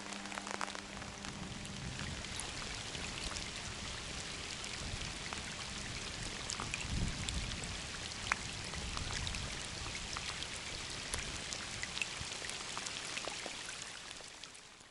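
Summer rain falls steadily in the northern taiga at a fishing camp, a soft continuous patter of drops on surfaces with scattered sharper ticks and no voices.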